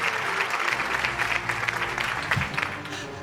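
A hall audience at a news network's annual award show applauds staff honored for ten years of service, a dense, steady wash of clapping that fills the whole moment without letup.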